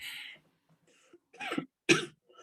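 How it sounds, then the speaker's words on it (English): A few short, sharp coughs close by, separated by brief quiet gaps, the last one loudest. "while you cough"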